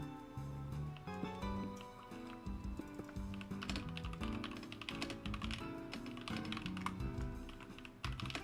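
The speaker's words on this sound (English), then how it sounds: "that's why I'm just typing now" Rapid typing on a computer keyboard, uneven bursts of clicky keystrokes running continuously at close range over a steady background of game music.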